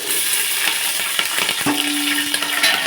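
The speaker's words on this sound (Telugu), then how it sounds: "ఆయిల్ హీట్ ఎక్కింది మనం పచ్చిమిర్చి వేసుకుందామండి" Green chillies fry in hot oil, giving a steady close sizzle with a few small knocks, and one brief metallic ring partway through.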